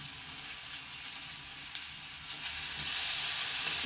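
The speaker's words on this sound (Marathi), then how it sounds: "छान परतून घेऊया." Chopped green chilies and garlic fry in hot oil in a pan for a safflower-leaf dish, a dense, steady close sizzle that grows louder and brighter partway through, with no voices.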